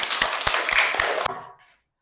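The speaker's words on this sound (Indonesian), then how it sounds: "Tepuk tangan buat Salwa." Classroom applause for a student named Salwa, a short burst of several sharp claps in a loose rhythm that stops abruptly and fades out within about a second and a half.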